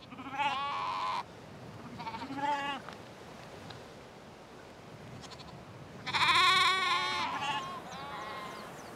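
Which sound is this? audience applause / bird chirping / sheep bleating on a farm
sheep bleating on a farm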